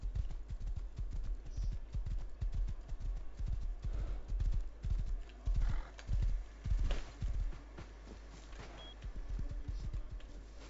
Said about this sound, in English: Where are you running off to, horsey?